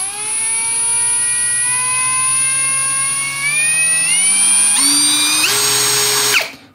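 A LUDYVI BL150 cordless brushless drill with hammer drilling runs at first speed, a loud, steady motor whine that climbs in pitch in steps toward the end before stopping abruptly.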